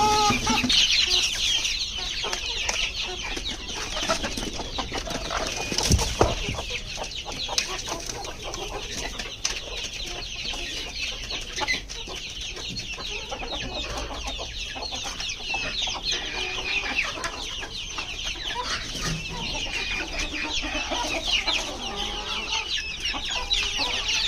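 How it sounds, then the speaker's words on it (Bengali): Native desi chickens cluck and squawk continuously as feed is handed out, several birds close by, with scattered louder calls and occasional wing flaps over a busy farmyard background. "ওদের বড় মুরগির জন্য খাবার দিয়ে দিলাম"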